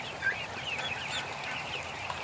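Ducks being sorted in the front of a barn, a steady chorus of nasal fowl calls and clucks with scattered higher squawks over constant barn rustle, close and continuous.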